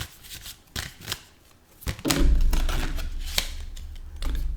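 Tarot cards being shuffled by hand, a few quick riffling bursts followed by a longer, denser shuffling run, close and crisp, with no speech.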